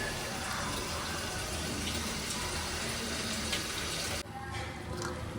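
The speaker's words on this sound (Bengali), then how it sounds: "ভেজে পানিটা দিয়ে দিব।" Water poured into rice frying with meat in a pot makes a loud, continuous gushing hiss close by that cuts off abruptly near the end, followed by quieter bubbling.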